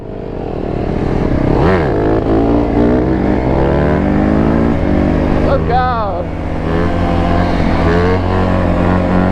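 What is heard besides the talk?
150 mini dirt bike engine revving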